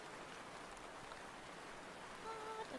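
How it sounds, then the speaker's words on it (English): Steady rain falls with a soft, continuous hiss and patter, faint and unbroken, with a few quiet tonal blips near the end. "You can't hear over the rain, probably."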